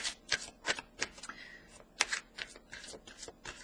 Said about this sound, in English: I'm using some oracle cards, the Saints and Angels oracle card from Dore